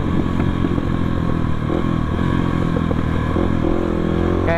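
Dirt bike fitted with a locally made aftermarket exhaust, revved close by in a loud, continuous, rumbling run with clattering mechanical texture and rising and falling engine speed, no voices.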